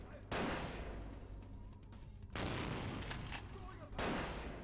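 Enemy gunfire in Vampire: The Masquerade - Bloodlines, a 2004 PC game: dense, loud bursts of shots in three long volleys separated by brief lulls, with a voice heard over the firing.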